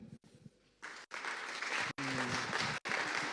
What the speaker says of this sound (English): Can you please practice your clapping?